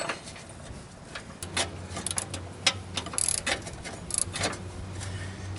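A ratchet wrench works loose a 14 mm pulley bolt on a Yard Machines 38-inch MTD mower deck, with quick irregular clicking and metallic ticks over a low steady hum.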